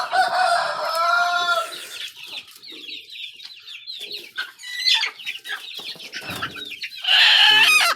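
Poultry farm with chickens clucking in a busy, overlapping chorus, a rooster crowing loudly near the start and again near the end, close and continuous.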